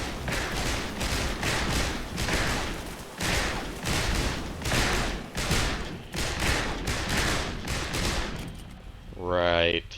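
Bursts of rapid gunfire in the sci-fi video game Aliens Dark Descent, repeated volleys close and loud across the whole stretch, ending with a rising electronic tone.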